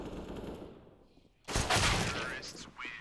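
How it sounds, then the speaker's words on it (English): Pistol fire in CS:GO during a retake on the Inferno map, a loud burst of rapid shots after a quieter stretch under excited casting commentary, with a final sharp shot near the end. "Another retake, this time with just pistols."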